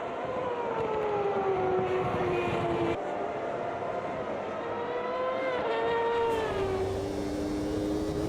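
Screaming Formula 1 engine from a 1995-season racing game, revs climbing and dropping through gear changes as the car exits a corner at Spa, loud and continuous with no talk.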